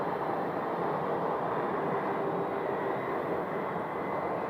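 A jet airplane flying over during plane spotting in Phoenix, a loud, steady, broad engine roar that holds constant throughout.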